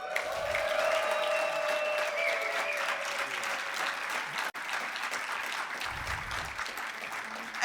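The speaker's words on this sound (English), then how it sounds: "we owe him a big, big, big clap" Sustained audience applause fills a conference hall at a music event honoring a veteran hit-maker, steady and dense throughout with scattered whoops, one brief dip near the middle.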